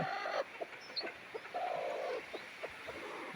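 A free-range country hen clucks in short, faint calls with a few longer drawn notes in a quiet outdoor setting.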